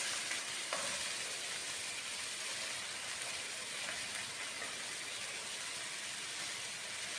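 Red onions frying in hot oil in a well-heated pan, an even, faint hissing sizzle throughout, close and steady with no talk.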